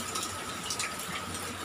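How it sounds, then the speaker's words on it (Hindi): Steady rain falls outdoors in the afternoon, a continuous close watery hiss and patter that fills the short stretch without any talking. "आज का मौसम देखिए कैसा बारिश हो रहा है"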